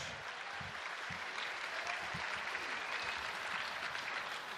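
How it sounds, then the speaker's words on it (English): Boxing crowd at a Pinoy Pride 24 fight night applauding two fighters after the bout, a steady broadband wash of clapping held at even level throughout, with faint low thumps beneath. "how about another round of applause for two great warriors?"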